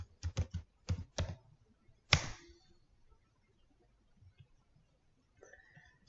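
Keys on a computer keyboard are tapped in a quick burst of about six crisp clicks, followed by one louder, sharper keystroke, then near silence with faint clicks at the end.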